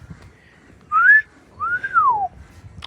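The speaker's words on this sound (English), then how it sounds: "I was whistling at the car" A person whistles at a 1972 Ford Mustang Convertible, giving two clear wolf-whistle notes, a short rising one followed by a longer rising-then-falling sweep, close and alone over faint background.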